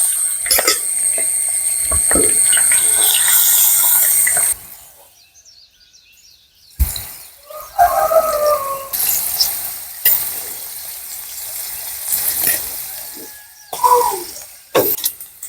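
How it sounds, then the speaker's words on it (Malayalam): Prawns sizzle and crackle loudly in hot coconut oil in a Kerala-style pan, with a pause and then renewed frying as more go in, plus occasional stirring scrapes close up. "ചെമ്മീൻ കുറേശ്ശെ ഇട്ട് കൊടുക്കാം."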